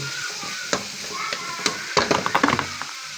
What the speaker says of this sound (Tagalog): Yan, lutuin natin ang yung kamatis, saka natin ilagay yung gulay.